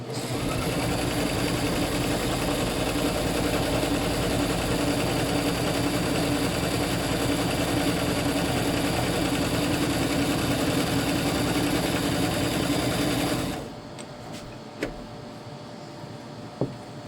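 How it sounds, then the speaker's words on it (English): Sewing machine stitching fabric, a fast continuous mechanical whir running steadily for about thirteen seconds before stopping, followed by near silence with a couple of faint clicks. "And we're going to start our sewing."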